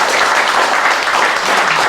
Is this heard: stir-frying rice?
no